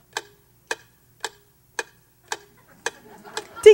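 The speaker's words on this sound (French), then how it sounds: "Tic-tac." A clock ticks alone in steady, evenly spaced beats, six crisp ticks about half a second apart, during a surrealist Dada cabaret performance. A swell of other noise builds at the end.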